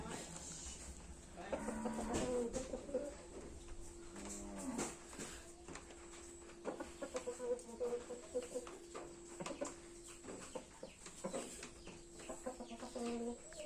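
Native domestic chickens cluck softly and repeatedly around a rural Thai home, the faint calls scattered through the quiet with a steady low background hum.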